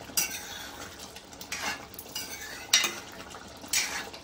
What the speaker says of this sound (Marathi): मिक्स करायची थोडी.